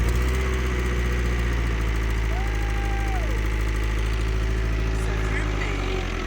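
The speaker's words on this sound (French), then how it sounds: "c'était le premier essai moteur" An old car engine, long unused and declared dead, idles cold on its first run with a crooked exhaust, a steady, loud, close rumble with a slight knocking vibration throughout.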